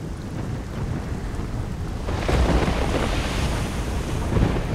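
Stormy seas in the video game Risen 2, with gusting wind and crashing waves roaring continuously and swelling louder partway through, no voices present.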